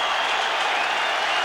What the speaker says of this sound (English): And he's walked out on the ground and is applauding his team.